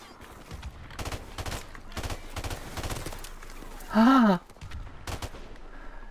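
Rapid bursts of automatic gunfire from the video game Call of Duty: Modern Warfare Remastered, repeated volleys crackling throughout with a brief tonal effect near the end.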